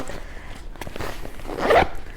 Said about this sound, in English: this pack has a secret zipper back here